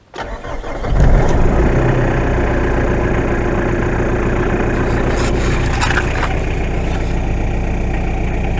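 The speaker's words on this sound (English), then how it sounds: "Start the engine." A Mitsubishi Shogun Sport 4x4 engine cranks briefly, catches with a rising roar, then settles into a steady, close idle hum that runs to the end.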